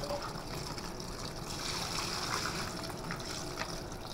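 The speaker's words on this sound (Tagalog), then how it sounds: "So naglalagay na siya ngayon ng tubig." Whirlpool LSP680GR washing machine filling with water from a weak tap, a steady trickling, splashing flow at moderate level with no pauses.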